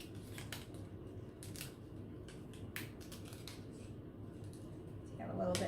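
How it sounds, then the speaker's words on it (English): Scissors snip off extra string on a tween's craft project, a series of short crisp cuts and clicks close by, with faint background noise and a bit of low handling sound. "you can cut off any extra string if you find that it is too long"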